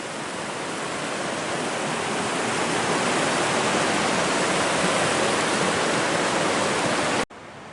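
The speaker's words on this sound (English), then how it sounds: "the creek's right over there" A creek at a backcountry cabin in Assiniboine Park rushes with a loud, constant broadband wash of flowing water, close by and unbroken, then it cuts off abruptly at the end.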